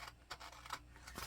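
Scissors cut through planner paper in a few quiet, close snips spaced about a third of a second apart.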